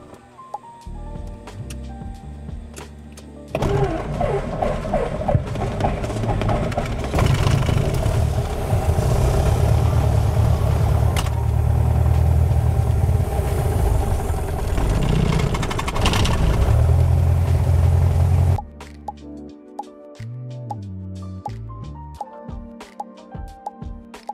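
Lycoming IO-360 aircraft engine idling on its first run after annual inspection, a loud, steady rumbling drone lasting about fifteen seconds after startup and then cutting off abruptly, leaving quieter clicks and background sounds.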